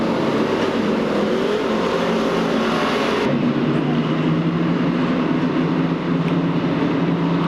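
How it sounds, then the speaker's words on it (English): Stock cars roar together at the start of a 12-lap heat race at Seekonk Speedway, a loud, continuous blend of engines under load that stays steady and close for the whole stretch. "And Kenny Simone lets them go for their 12-lap heat event around the finish line."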